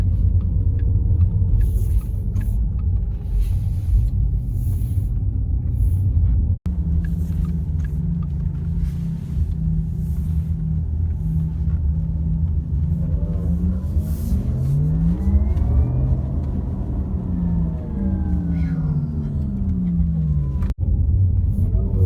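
A Porsche Taycan Turbo electric car drives, giving a steady low rumble with a rising and falling synthetic whine as it accelerates, heard from inside over about twenty seconds with no talking.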